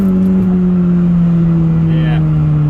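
A 2.2 VTEC engine in a misfiring JDM Honda Prelude runs loud and close with a steady rough drone, and a voice talks over it.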